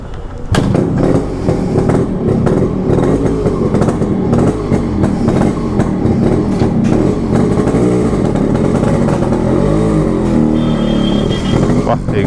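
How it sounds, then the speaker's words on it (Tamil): Yamaha RX135 two-stroke motorcycle with performance upgrades, exhaust droning loud and continuous while riding, with a low throbbing note and wind rush and a voice talking over it. "கண்டிப்பாக வந்து 2 ஸ்ட்ரோக்கோட எக்ஸாஸ்ட் நோட்டே பார்த்தீங்கன்னா ரொம்ப ரொம்ப சூப்பராக இருக்கும்"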